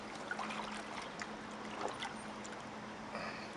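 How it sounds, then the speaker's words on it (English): Running water pours and splashes while a kendo uniform, still bleeding indigo dye, is washed and unfolded by hand under the tap, a steady low rush with faint sloshing and no speech. "I'm gonna unfold it under the water as well."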